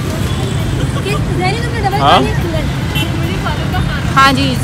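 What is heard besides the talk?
road traffic noise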